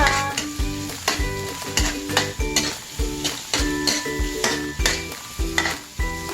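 A generous amount of onions is sautéed in a pan, with brisk, rhythmic stirring strokes over a steady sizzle, close and fairly loud throughout.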